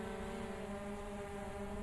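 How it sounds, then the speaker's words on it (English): Far off, a single-wing Air Tractor turboprop crop-sprayer drones steadily across open farm country, faint but continuous, with a low even hum and no voices. "I could also hear that air tractor, the single wing turboprop,"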